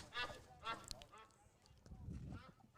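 Geese honking near a high school baseball field, a few faint calls repeating over low background murmur and game sounds.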